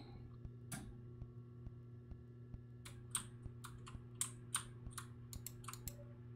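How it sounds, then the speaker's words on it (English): Typing on a computer keyboard in a video game, with a few isolated key clicks followed by a quick irregular burst of keystrokes over a steady low hum. "So hit some keys on it."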